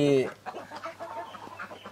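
Tiger chickens on a poultry farm cluck and call close by, a high drawn-out squawk at the start followed by softer scattered clucks.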